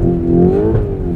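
An engine pulls hard and loud up close during a launch of a Lamborghini Urus or Jaguar F-type with electronics switched off. The steady rising drone holds for about a second with no talk over it.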